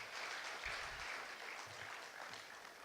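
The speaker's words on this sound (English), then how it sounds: "I would like us to give the chairman and the panel another round of applause" An audience at a conference session applauds the chairman and panel, a steady wash of many hands clapping at a moderate distance, fairly faint and continuous with no talk over it.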